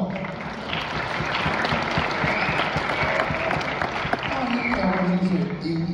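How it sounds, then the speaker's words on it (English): A crowd claps steadily for several seconds at a jazz master class, a dense patter of applause with some voices mixed in. "Let's give him a round of applause."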